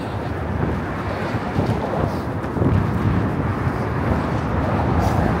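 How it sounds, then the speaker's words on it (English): Strong wind gusts buffet the microphone on a New York bridge, a loud, steady roar of low rumble that swells and surges throughout without letting up. "It is very windy on this bridge, though."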